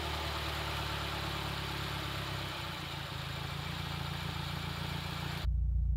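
A warmed-up Subaru WRX engine idles with a steady low rumble that holds constant, then cuts sharply into a deep booming hum near the end, with no voices.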